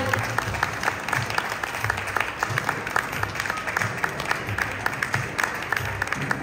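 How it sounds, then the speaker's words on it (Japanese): An audience at a student fashion show of Oshima tsumugi silk garments, held at a Kagoshima airport festival, applauds steadily, a dense wash of many hands clapping at a moderate distance. "どうぞ改めて拍手でお迎えください。"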